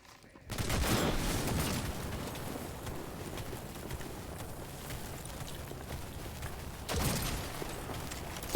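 Gunshots in the video game Cyberpunk, heard as a sudden loud burst of rapid fire followed by a sustained rattling barrage, with a second sharp burst near the end.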